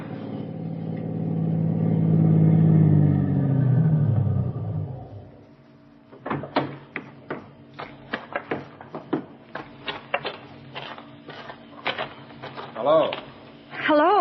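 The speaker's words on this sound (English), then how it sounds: "That car down there at the foot of the hill just turned in your driveway" A car engine swells and fades in a radio-drama scene as the car turns into a driveway at the foot of a hill, followed by a run of sharp, rapid clicks and knocks.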